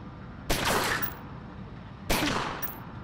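Two bursts of gunfire in the video game Omerta: City of Gangsters, each a sharp blast trailing into a crackling rumble, spaced about a second and a half apart over low background noise.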